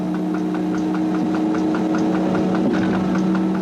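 Inside the cab of the CC 6524 electric locomotive as it pulls train 471 out of Paris Austerlitz: a steady electrical and mechanical hum with a sustained whine, and regular wheel clicks over rail joints running underneath.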